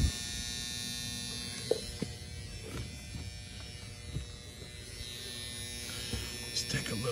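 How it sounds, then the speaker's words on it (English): A transformer inside a Goodman HVAC package unit gives a steady, fairly quiet electrical buzz throughout, with a few light clicks and handling noises on top. "what we hear is the transformer buzzing"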